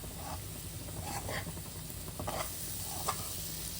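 Sweet potato slices cooking uncovered in a pan as sugar caramelizes into a coating, a soft, fairly quiet sizzle and bubbling with a few light stirring scrapes, no talk.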